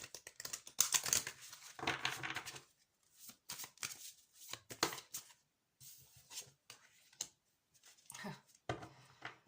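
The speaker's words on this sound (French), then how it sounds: "Je vais remélanger." Tarot cards are reshuffled by hand in bursts of riffling and soft slapping, close and crisp, with brief pauses between handfuls and a quiet voice now and then.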